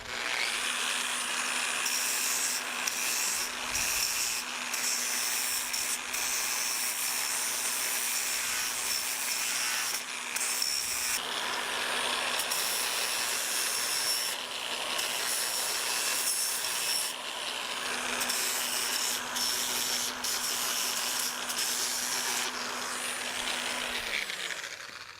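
Power tool grinding the edges of a steel gate fuller, chamfering and radiusing them: a continuous close, loud abrasive rasp with a steady tone that runs for the whole stretch and varies slightly as the pressure shifts.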